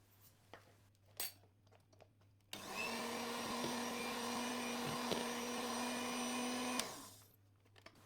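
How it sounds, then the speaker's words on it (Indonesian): An electric mixer whirs steadily for about four seconds, beating butter and margarine into lapis legit cake batter, a loud close drone that starts abruptly and cuts off after a few faint clinks. "Kemudian kita akan mixer sebentar saja."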